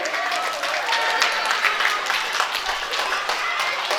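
An audience claps at a school annual function in Amreli, a dense, fairly loud round of applause that runs steadily throughout with a faint murmur of voices beneath it.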